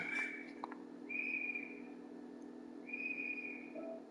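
A whistle is blown in short, shrill, steady tones, one brief burst followed by two longer held blasts, faint against a low background hum during a basketball video game session.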